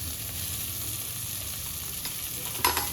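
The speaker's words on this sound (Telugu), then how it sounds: "కట్ చేసుకున్న ఉల్లిపాయ ముక్కలు కొంచెం మెత్తబడిన దాకా వేగించుకోవాలి." Chopped onion and curry leaves fry in a pan with a steady, close sizzle, and a short clatter of stirring breaks in near the end.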